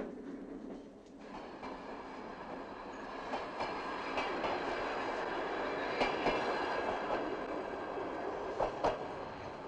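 A passenger train carriage rattles along the tracks in a 1988 Soviet comedy adventure film, a steady rolling rumble with rhythmic clicks and knocks from the wheels, close and continuous, with no one speaking.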